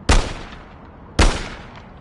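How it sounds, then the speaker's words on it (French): Two loud, sharp gunshots in a video game, a shot fired at a character's leg, spaced about a second apart, each with a short decaying tail and no talk. "qu'est-ce que ça fait si je tire dans la jambe?"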